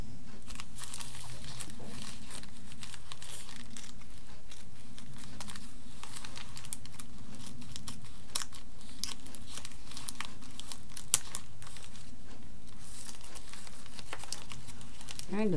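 Wrapping paper crinkles and tears as a tightly wrapped parcel is opened, a continuous close rustling with scattered crackles and light taps, under occasional talk.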